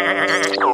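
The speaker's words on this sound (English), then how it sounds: "It's a sheep eating an ice cream." Cartoon sheep in a Pocoyo episode lets out one short, wavering bleat, clear and close, ending in a rising-then-falling cry with no speech over it.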